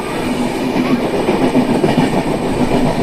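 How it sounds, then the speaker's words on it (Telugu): Steady rumble and rattle of the Coromandel Express passenger train rolling along the rails nearby, with a rhythmic clatter of wheels over track joints and no voices. "ఇది Coromandel express Shalimar to MGR Chennai central"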